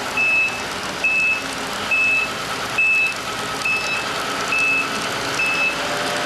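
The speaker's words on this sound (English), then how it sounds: "Now all he has to do is slide the dumpster back with the massive hydraulic truck he has." A large hydraulic dumpster truck reverses with its backup alarm beeping in a steady, evenly spaced series of about eight tones over constant engine rumble, fairly close and alone.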